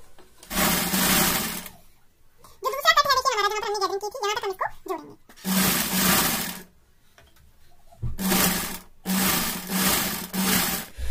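A sewing machine stitches a newborn baby cap in several loud, buzzing runs of a few seconds each, separated by silent pauses, with someone speaking during one of the gaps.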